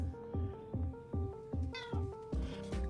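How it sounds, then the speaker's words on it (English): A black cat meows loudly and repeatedly indoors, about eight short insistent meows in a steady rhythm, close to the microphone, with no talking over them. "Here's our cute little black cat, Binks"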